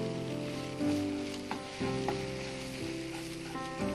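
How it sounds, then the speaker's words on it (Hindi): Semolina and milk roast in ghee in a pan, giving a steady close sizzle with brief stirring scrapes, heard over a sustained tonal backing. "फिर इसमें थोड़ा थोड़ा घी बार बार डालेंगे। ताकि ये दूध और सूजी अच्छी तरह से भुन जाए।"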